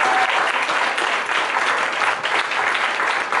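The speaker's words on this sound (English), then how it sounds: "Can you give them all a round of applause, please?" An audience at a TechPint event in Akron gives the TechPint team a round of applause, a dense, even stretch of clapping that holds steady throughout.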